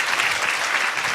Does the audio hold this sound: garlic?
no